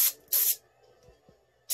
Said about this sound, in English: I'm spraying my rear derailleur